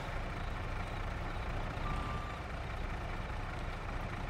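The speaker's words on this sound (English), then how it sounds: "If I could strangle this backup beeper on this" A logging machine's backup beeper sounds while the machine reverses in the snow, a steady tonal beep over a constant loud engine rumble, with no talk.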